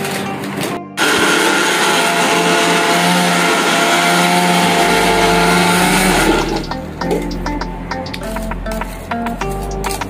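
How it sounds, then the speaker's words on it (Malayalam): An electric mixer grinder grinds Oreo biscuits, starting abruptly with a loud, steady whirring roar that runs for several seconds before easing into a rougher, rattling spin as it slows, heard close with no speech. "അപ്പോൾ നമ്മൾ മിക്സിയിലിട്ട് നല്ലപോലെ പൊടിച്ചെടുത്തിട്ടുണ്ട്."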